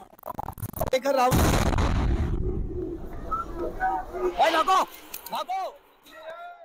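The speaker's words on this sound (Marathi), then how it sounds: "लोकांशी बोलत होता आणि अचानक तिथे स्फोट घडला" A sudden blast near the Red Fort in Delhi hits with a loud, broadband roar and a second of rumbling, then fades into voices talking and birds cooing nearby.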